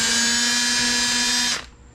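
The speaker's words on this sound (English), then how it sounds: "We're going to run the 3/32 drill bit through, which is the size of the tang that we're going to be shoving into it." Power drill running steadily as a 3/32 bit bores a hole for a tang in a motor support bracket for a Crazy Cart XL, a loud close whine that holds for about a second and a half and then cuts off.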